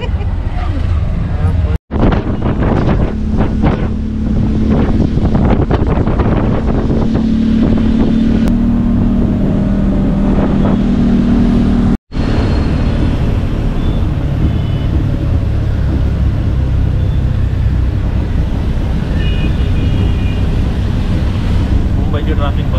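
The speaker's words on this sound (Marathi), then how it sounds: "मुंबईची ट्रॅफिक बघा." Mumbai road traffic heard from inside a moving auto-rickshaw on a rainy day, with loud, continuous rushing engine and wind noise, passing vehicles and a few abrupt breaks, while people talk throughout.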